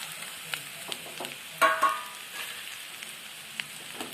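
Brinjal and tomato frying in oil as they are stirred in the pan, quiet scraping strokes with a short louder burst midway, no talk.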